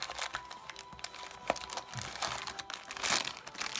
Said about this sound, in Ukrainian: силофановий пакетик